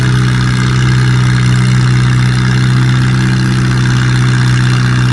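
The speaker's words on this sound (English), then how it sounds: "A lot of belly bass in that tractor." A pulling tractor at a Farmall versus John Deere tractor pull roars with a steady, loud, deep engine drone that never lets up, dominated by heavy low rumble.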